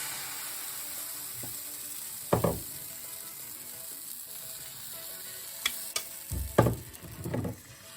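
A pineapple crepe cooks in a pan with a soft, even sizzle that stays low, broken by a few sharper clatters and bumps of utensils against the pan. Nobody speaks.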